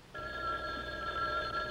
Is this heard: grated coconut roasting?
no